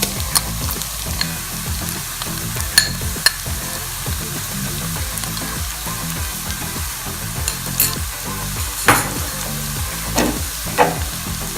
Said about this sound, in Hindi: 2 मिनट के लिए मैंने लहसुन अदरक जो पिसी हुई थी उसे भी हमने फ्राई कर लिया है।